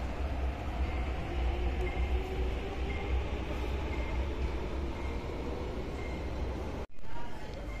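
A Hong Kong MTR metro train rumbles steadily along the tracks, a low continuous roar inside the carriage, ending with a brief abrupt drop.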